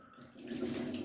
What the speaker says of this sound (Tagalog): Tapos, lalagay na natin ang rice, pero kailangan hugasan natin.